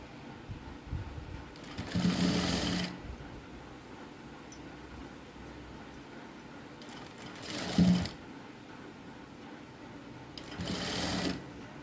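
A sewing machine runs a straight seam on a blouse in three separate bursts of stitching, each lasting about a second, with quiet pauses between them.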